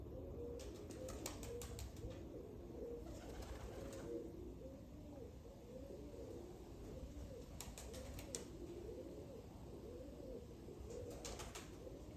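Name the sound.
Cheeny Jugnu pigeons cooing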